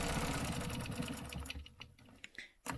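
A sewing machine stitching a stencil pattern: a fast, steady mechanical rattle for a couple of seconds, then stopping with a few brief clicks and thumps, close and without talk.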